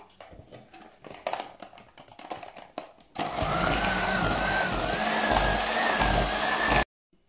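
Mascarpone and egg mixture for a strawberry tiramisu, first scraped and tapped by hand, then an electric mixer whirs loud and steady for several seconds before cutting off.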